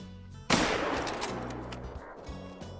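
A single loud rifle shot fired at an animal while hunting in Call of the Wild: The Hunter, a sharp crack followed by a long rolling echo that fades over a couple of seconds, with no talking.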